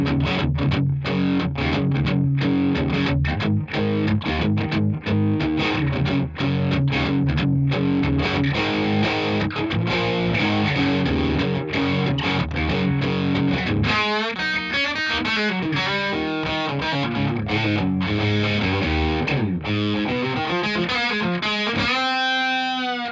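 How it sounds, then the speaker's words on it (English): Distorted electric guitar played through a Cooper Time Cube delay, a dense, continuous rock riff with repeating echoes, loud throughout with no talking. "Let's contrast that with that Cooper Time Cube we were just talking about."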